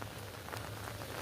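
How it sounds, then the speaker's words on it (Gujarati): Steady heavy monsoon rain falling in Surat, a faint, even patter of drops on surfaces that holds without a break for about a second. "અત્યારે હવાર પડી ગયું છે તોય તે એક ધારો અમારે અહીંયા સુરતમાં વરસાદ બહાટી બોલાવે છે"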